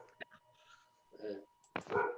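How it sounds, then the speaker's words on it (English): A dog gives a few short, close barks and yips amid quieter sounds, then people begin talking over the final moments. "We'd like to get your dog Dan's opinion on it"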